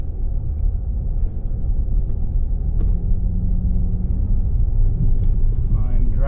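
Steady low rumble of a car rolling across the hard, flat surface of the Bonneville Salt Flats, constant and close, with a person talking over it.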